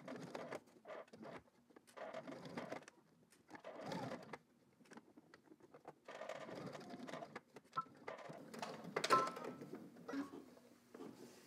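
A sewing machine stitches a garment in short, intermittent bursts of rapid mechanical chatter, fairly faint and close, separated by quiet pauses and handling noises.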